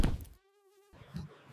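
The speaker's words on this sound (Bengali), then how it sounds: "এই মশাটাই আমার জীবন নষ্ট করছে।" A mosquito's thin, steady whine buzzes for about half a second between short bursts of duller noise, close and faint.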